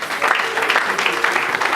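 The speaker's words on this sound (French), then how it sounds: "Acclamons pour la gloire de l'Éternel notre Dieu." A church congregation bursts into steady applause, dense rapid clapping filling the room at a moderate distance, with a few voices faintly underneath.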